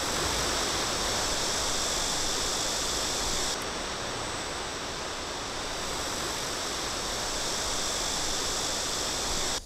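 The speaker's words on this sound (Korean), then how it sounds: "바로 원골 인공 폭포인데요. 높이 80m를 자랑하는 인공 폭포라고 합니다." An 80-metre-high artificial waterfall at Wongol beside the Geumgang river pours with a steady, loud broadband roar that holds unbroken throughout, with no voices.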